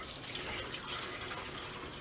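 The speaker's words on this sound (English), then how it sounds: "We're gonna take our baking sheet and we're gonna fill it with some hot water here." Hot water running from a tap into a baking sheet, a steady broadband splashing and pouring that continues unbroken at moderate level throughout.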